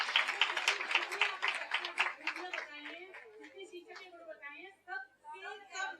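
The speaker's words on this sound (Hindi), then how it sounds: "क्या बात है, जोरदार ताली बजाइए इनके लिए।" An audience at a yoga training camp in Haridwar claps together in a dense, lively round of applause that thins into scattered, fading claps, with voices heard over it.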